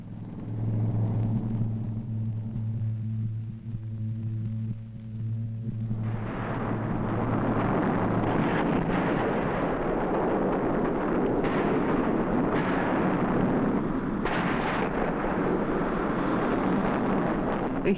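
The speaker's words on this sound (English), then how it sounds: "the volcano came to life on July the 6th." A volcano erupts, throwing up a huge pillar of fire. A low, steady hum gives way to a loud, deep roaring rumble that swells and keeps booming, like distant blasts.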